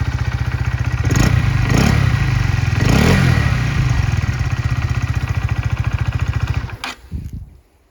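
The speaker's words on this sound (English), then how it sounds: "I'll just leave you with the sound of the engine" A 2019 Honda CB125R 125cc motorcycle engine idles loudly and steadily with a throbbing low rumble and a few brief revs, then cuts off and fades near the end.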